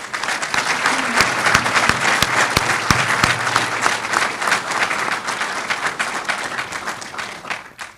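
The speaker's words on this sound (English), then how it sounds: "Let's give this vision an applause." Audience applause at a university medical academic building groundbreaking ceremony: dense, loud clapping from a large crowd, steady and sustained for about eight seconds, with a few sharper individual claps standing out near the start.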